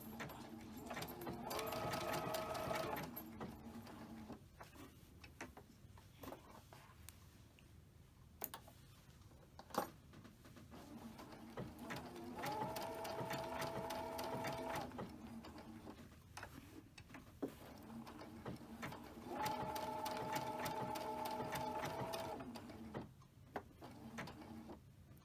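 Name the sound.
sewing machine quilting stitch on a heart mug rug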